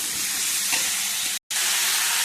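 Coriander and cumin powder sizzle hard as they are sautéed in a hot pan for a potato and pointed gourd curry, a steady close hiss that drops out for a moment before resuming.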